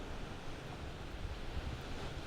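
Ocean waves on Concha Beach, a steady broadband wash of surf with constant rushing noise and no distinct individual crashes, moderately loud and alone, with wind noise mixed in.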